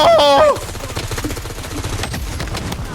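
Rapid automatic gunfire from a shooting video game, a full 50-round magazine emptied in a fast, dense burst of shots after a brief electronic tone, loud and continuous for several seconds.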